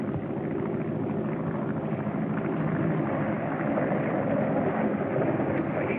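Steady drone of a propeller plane flying past, a continuous broadband engine roar holding at an even, fairly loud level throughout, with no voices.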